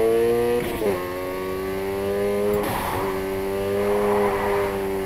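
A car drifting in Need for Speed Heat, its engine revving high and steady with gear-shift dips and tyre squeal, loud and close.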